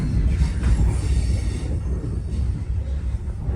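A GWR HST Castle set train pulls into Saltash station after crossing the Royal Albert Bridge, a steady loud rumble of wheels and carriage noise with faint squeal, heard from on board, no talk.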